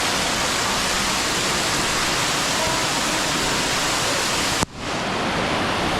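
Roaring cascade at the sticky waterfalls in Chiang Mai, a steady broadband rush of falling water close by that briefly dips and surges back near the end.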